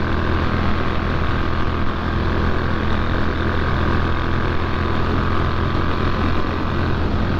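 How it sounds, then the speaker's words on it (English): A Triumph Street Triple 765 R motorcycle at speed gives a loud, unbroken roar of engine and rushing wind that holds steady throughout, close and dense with no talking. "if I was to open the throttle now on this, it makes a bit more noise"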